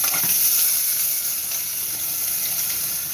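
Chopped garlic sizzling in hot oil in a frying pan for adobo, a steady bright crackling hiss close up, with no talking.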